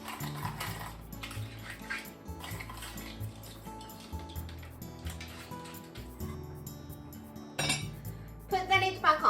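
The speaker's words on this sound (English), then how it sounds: "Put the lid back on and keep braising until clams are all open." Metal lid clinks and clatters onto a braising pan of napa cabbage and asari clams, with a gentle simmering bubble underneath and a few sharper clanks near the end.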